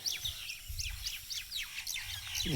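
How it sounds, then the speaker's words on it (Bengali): Many small birds chirp rapidly together over harvested rice fields on a foggy morning, a busy flurry of high tweets at moderate distance over faint low rumble. "এক ঝাঁক পাখি"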